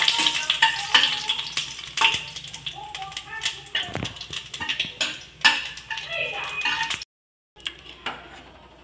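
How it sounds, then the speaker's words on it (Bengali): Dried red chillies and Bengali five-spice seeds crackle and sizzle in hot oil left from frying lentil dumplings, busy and close with stirring clatter, a voice speaking over it, and a brief drop-out near the end. "কয়েক সেকেন্ড মশলাগুলোকে ভালো করে একটু ভেজে নিয়ে সুন্দর গন্ধ বেরোলে"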